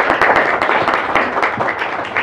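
Close, lively audience applause at a conference on employment and entrepreneurship in Africa, dense overlapping claps holding steady for about two seconds.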